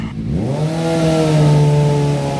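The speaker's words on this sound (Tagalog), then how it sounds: "Naka-slip on siya na Termino Gnoni na exhaust. Titanium siya" Suzuki GSX-S 750 motorcycle fitted with a titanium Termignoni slip-on exhaust, revving up sharply from idle into a loud, sustained high-rpm roar that holds steady, close by with no talk.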